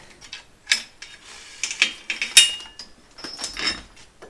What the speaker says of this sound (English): it's needing the spanner to undo it the whole way